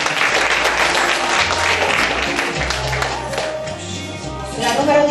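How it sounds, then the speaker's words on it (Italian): Sustained applause from a crowd at a beauty pageant, dense and steady clapping filling the whole stretch, swelling slightly again near the end. "Un applauso a Alessia De Mai Ercolano."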